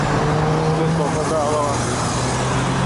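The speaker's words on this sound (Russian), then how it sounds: "Еду в кучке транспорта." Road traffic heard while riding a bicycle in a cluster of city vehicles, with a steady engine drone, tyre noise and nearby cars and a minibus passing throughout, loud and continuous, with a voice talking over it.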